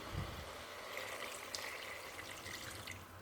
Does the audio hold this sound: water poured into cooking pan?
yes